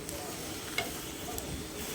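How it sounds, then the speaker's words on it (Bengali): A paratha fries in a little oil in a pan, a soft close sizzle with a few light clinks and scrapes from a spatula, no voices heard. "আমি খুন্তি দিয়ে ভালো করে ঝাঁকিয়ে একটু ভেজে নিচ্ছি"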